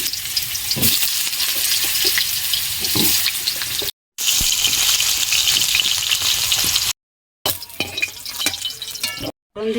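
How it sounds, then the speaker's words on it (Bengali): Potatoes drop into hot oil in a wok and fry with a dense, loud crackling sizzle, broken by a few brief cuts of silence, with faint bubbling texture and no talk. "তেল গরম হয়ে গেছে, এবার আমি আলুটা ছেড়ে দেবো।"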